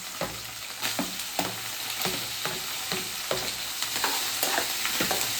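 Ginger-garlic paste and tomato frying in a pan for bitter gourd palya sizzle steadily while a spoon scrapes and stirs in a regular rhythm of close, repeated strokes, with no talk.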